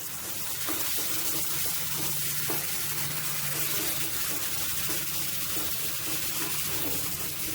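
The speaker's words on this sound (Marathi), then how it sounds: "हो मसालो सुमार 1 ते 2 मिनिट तेला भितर जरा परतून घेऊया" Green masala paste frying in oil for Konkani-style pomfret sukka, a steady close sizzle with soft stirring scrapes running evenly throughout.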